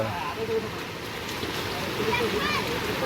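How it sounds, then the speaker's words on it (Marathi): Water flowing at Palasdhari dam during heavy rain, a close, steady rushing and splashing wash that fills the whole stretch, with voices talking over it. "हा पाण्याचा थोडा फ्लो आहे"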